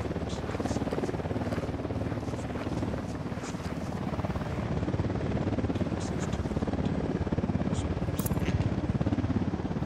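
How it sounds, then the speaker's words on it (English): A helicopter approaches in the video game Ghost Recon, its rotor chop loud and continuous throughout, with voices and scattered clicks over it. "We got a chopper coming in."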